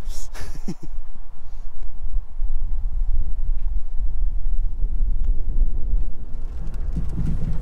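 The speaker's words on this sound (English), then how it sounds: "it is quite windy up there" Strong wind blowing across an exposed rock outcrop in Australia's Wheatbelt, buffeting the microphone with a loud, steady roaring rumble that barely lets up.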